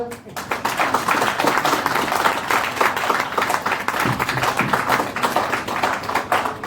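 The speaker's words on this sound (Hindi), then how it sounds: "बजा दो यार जबरदस्त तालियां।" Dense, sustained applause from a classroom audience at a lecture, steady hand clapping filling the whole stretch without pause.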